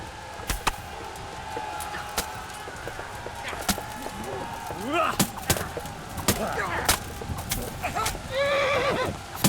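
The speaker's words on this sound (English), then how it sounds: "I'm stabbing a horse because of you." In the video game Kingdom Come: Deliverance, a horse being stabbed whinnies several times amid clip-clopping hooves and sharp game sound effects, with someone talking over parts of it.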